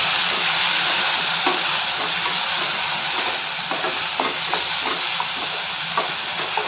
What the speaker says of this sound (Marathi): टोमॅटो छान मिक्स करून घेऊयात.